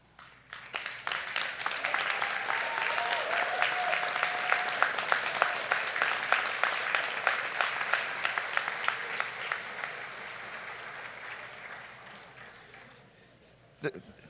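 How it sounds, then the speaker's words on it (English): A convocation audience gives award recipients a sustained round of applause, dense clapping that swells quickly, holds for several seconds and then tapers off, with a faint tone and some voices underneath. "Would all our award recipients please stand for a round of applause?"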